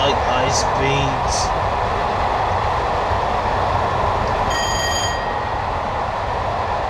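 An old, very old locomotive in Train Simulator runs at steady speed, a loud continuous rumble with rail noise, brief high whistle-like tones near the start and a tonal squeal later.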